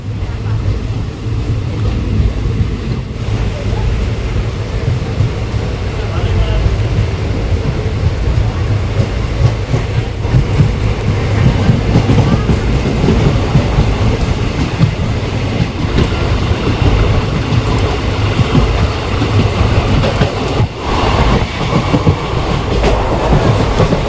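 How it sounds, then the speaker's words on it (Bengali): The Bhagirathi Express pulls out of Murshidabad station, its steady, loud rumble and rattle of carriages running through the whole span, heard from on board; no one speaks. "মুর্শিদাবাদ স্টেশন থেকে এখন ট্রেন ছেড়ে দিল বন্ধুরা"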